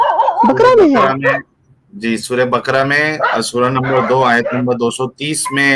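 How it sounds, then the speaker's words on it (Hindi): A dog barks and whimpers somewhere near a heated religious debate, its yelps partly buried under continuous close talking. "ये कुत्ता कहाँ से भौंक रहा है"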